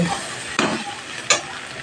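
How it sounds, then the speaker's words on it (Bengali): Soybean chunks sizzle steadily in hot oil, with two distinct scraping stirs of a spatula against the pan about a second apart. "এখন এটা ভেজে নিচ্ছি সয়াবিন ভাজা হয়ে গেছে"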